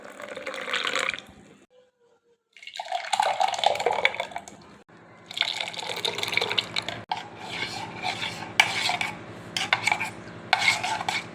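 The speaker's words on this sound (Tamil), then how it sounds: "இதில் நம்ம தேவையான அளவு தண்ணி சேர்த்திக்கலாம்." Water poured and stirred into freshly blended bottle gourd juice in a kitchen, with intermittent bursts of splashing and clinking of a spoon against the vessel, separated by brief pauses.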